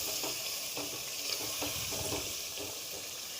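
Green chilies hit a karahi of chicken and tomatoes, setting off a steady loud sizzle with soft scraping stirs throughout and no voices.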